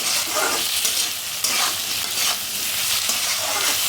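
Potato and long bean stir-fry stirred in a hot pan with salt and turmeric, a steady loud sizzle with rhythmic scraping strokes throughout.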